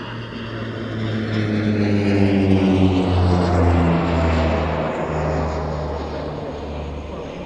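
An Avro Vulcan flies past at an airshow with a loud, droning engine roar that swells and slowly shifts in pitch as it passes overhead, then eases off gradually.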